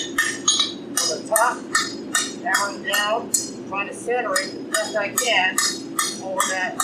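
Metal being hammered down from the top while forging a scroll wrench at a blacksmithing demonstration, with a series of ringing, clinking strikes in a steady rhythm, close and loud over a low background hum.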